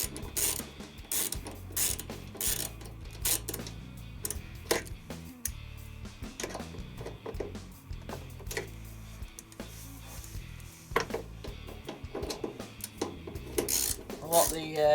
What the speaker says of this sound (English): we'll put this ratchet into the opposite direction now so we can lock it